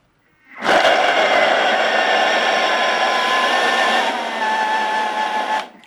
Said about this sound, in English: So I've put it in a blender. I'm going to blend it for literally about 5 seconds, and it looks like couscous.